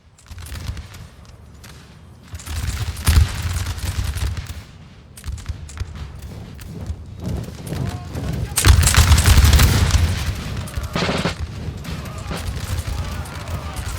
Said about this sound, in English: The artillery is hitting.